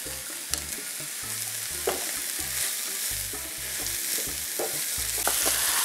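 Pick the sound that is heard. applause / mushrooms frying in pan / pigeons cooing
mushrooms frying in pan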